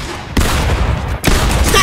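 Pistol fire in the Fortnite video game comes as two loud, close bursts of rapid gunshots about a second apart, with no talk over them.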